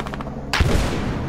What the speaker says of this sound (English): Nebrios, how did you avoid every single shot I fired on you